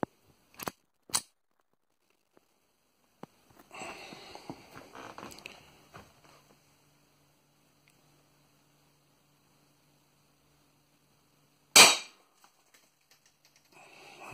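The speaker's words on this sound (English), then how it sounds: "And we're gonna shoot it with 22." Two sharp .22 rifle gunshots crack near the start, followed by a bright impact-like burst later, as shots strike a thick homemade aluminium 6082 armor plate outdoors; faint handling noises fill the gaps between loud reports.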